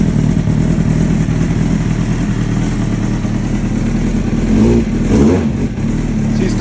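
A Kawasaki ZX9R motorcycle engine, started for the first time after about a year in storage and partly stripped for parts, runs close and loud with a rough idle and a couple of revs near the end.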